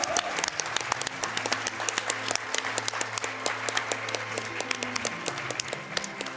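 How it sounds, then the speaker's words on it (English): Steady applause from a sizable crowd at the AGDQ 2018 speedrunning event, dense clapping that holds evenly throughout, with a faint low hum underneath. "let's give Rivers a big round of applause before we get started on his run."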